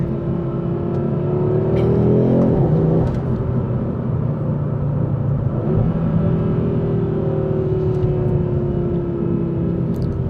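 A 2025 Audi RS3 engine revs hard under acceleration in manual mode, a loud, steady, close-up roar with rising and falling pitch and brief shifts, heard from inside the car with no talking.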